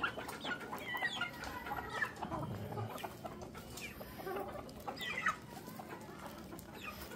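Chickens cluck steadily at feeding time in a farmyard, several birds overlapping with busy chatter and occasional louder calls at moderate distance, with no talk.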